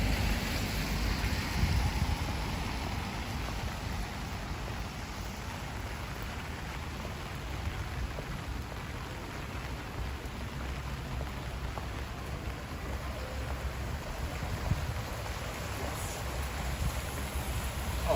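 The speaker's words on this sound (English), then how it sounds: "it is raining just about everywhere in Brisbane today" Steady rain falling across Bulimba, Brisbane, a continuous broadband hiss of drops on surfaces with a faint wind rumble, recorded outdoors while walking, unbroken and even for the whole stretch.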